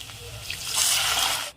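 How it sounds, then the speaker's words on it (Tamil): Water poured into a pan of potato masala being cooked for puri, a steady splashing pour that swells briefly and cuts off sharply at the end. "இப்போ மசாலுக்கு தேவையான அளவு தண்ணி சேர்த்துக்கலாம்."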